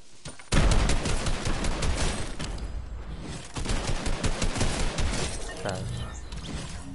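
Dense video-game gunfire rattles through the clip as rapid bursts and fusillades, close and loud, with a steady shooter-game soundscape underneath and people talking over it.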